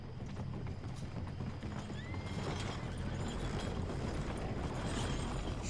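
Horse hooves clip-clop in a steady, continuous rhythm in the video game Red Dead Redemption 2, close and moderately loud, with a neigh and low rumbling ambience underneath.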